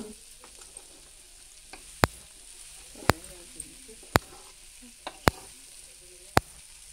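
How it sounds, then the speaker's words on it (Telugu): Black-eyed pea snack mixture fries in a pan with a steady low sizzle, broken by a few sharp metallic spoon clicks against the pan as it is stirred. "ఇలా బాగా కలిపిన తర్వాత ఒక 2 నిమిషాలు వేగిన తర్వాత మీరు స్టవ్ ఆఫ్ చేసుకొని సర్వ్ చేసుకోవచ్చు"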